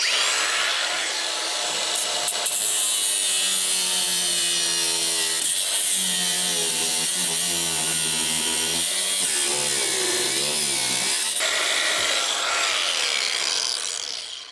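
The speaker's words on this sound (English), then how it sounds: "I'm going to cut these and try and save those cables." Cables are being cut out of a golf cart during a teardown for a mud-ready side-by-side build. A loud, continuous rasping grind with a shifting pitch runs for about fourteen seconds, close up and alone.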